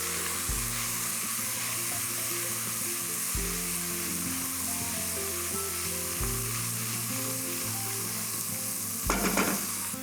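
Chilli flakes and sprigs of thyme sizzle loudly in a pan, a dense continuous frying hiss with low scraping strokes of stirring every few seconds and a brief clatter near the end, no voices.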